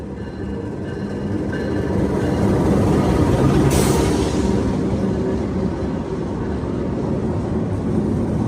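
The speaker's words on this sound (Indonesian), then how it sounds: "Jalur 1 stasiun Semarang Tawang, masuk kereta api Sembrani." The Sembrani passenger train rolls into platform 1 at Semarang Tawang station at night, a loud, steady rumble of wheels and cars that swells and holds for several seconds, with a brief sharp hiss partway through.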